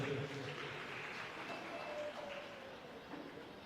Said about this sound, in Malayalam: ഒന്ന് കൈയടിച്ച് പ്രോത്സാഹിപ്പിക്കുക.